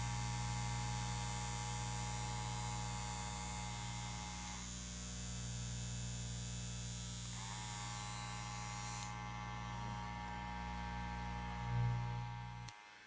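A corded Andis Master hair clipper runs with a steady, quiet electric hum and buzz, unbroken for the whole stretch and fairly faint, with no voices, ending in a brief bump and cutoff.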